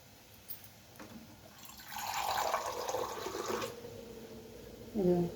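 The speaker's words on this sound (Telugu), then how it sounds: "పావు గ్లాసే పోస్తున్నాను" About a quarter glass of water is poured into a pot in a steady stream lasting a couple of seconds, with a soft clatter at the end.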